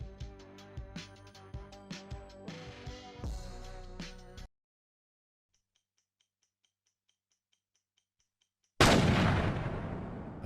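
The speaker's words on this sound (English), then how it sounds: "A single gunshot is heard" A single loud gunshot bursts out of silence and rings on, after a stretch of ticking rhythmic music that cuts off abruptly.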